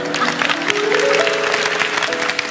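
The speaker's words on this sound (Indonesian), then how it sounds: "Kasih tepuk tangan." Dense applause rises from a church audience during a pastor's sermon, a short burst of many hands clapping together over a soft sustained musical tone.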